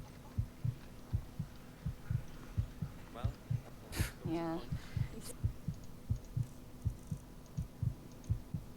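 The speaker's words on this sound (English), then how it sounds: "That heartbeat noise is driving me nuts." A steady thumping heartbeat loops as a sound effect in the video game Enderal, evenly paced pulses about twice a second, with a brief voice and other game sounds passing over it midway.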